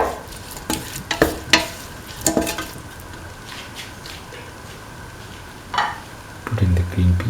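Tomato pieces and green chili are stirred into a bubbling beef, green pea and coconut milk stew, with bursts of spoon scraping and wet squelching over a steady sizzle, close and fairly loud.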